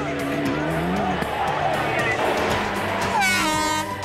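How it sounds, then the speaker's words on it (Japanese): Mitsubishi Lancer rally car in a 1998 WRC event, limping on three wheels and scraping sparks after losing grip on an oily left corner: steady engine drone with scraping and squeal, a horn-like blare near the end, commentary over it. "三輪のまま火花を散らして走行するランサー"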